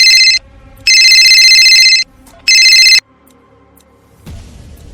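Telephone bell ringing loudly in bursts, two long rings and a shorter one, with a quiet room between and a low thump near the end; no talk.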